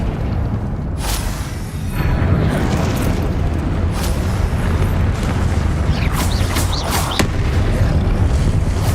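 Confringo spell blasts in the video game Hogwarts Legacy: repeated booming bursts over a continuous rumbling background, with several sharp crackling hits scattered through.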